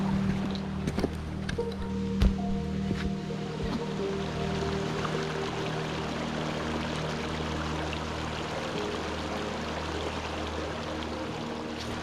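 Water rushing in a stream in the Angeles National Forest on the hike to Millard Falls, a steady close wash of flowing water with faint thumps and scuffs from hikers crossing.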